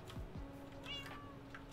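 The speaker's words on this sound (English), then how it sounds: "So, are you really a cat or is this a trap?" A cat meows in the Minecraft modpack GT New Horizons, one short faint meow over a quiet hum, followed by a high fluttery sound.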